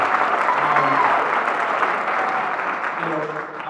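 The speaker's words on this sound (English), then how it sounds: "Let's give Lila a round of applause" Audience applause fills a winter concert hall, a steady sustained clapping from the crowd for a student soloist, loud and continuous throughout.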